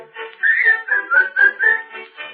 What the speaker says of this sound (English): start to whistle while you work